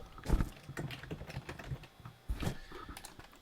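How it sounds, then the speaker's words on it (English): Typing a new note title on a computer keyboard, a quick irregular run of soft, close key clicks with a couple of louder presses. "click in that space, and just type a new title."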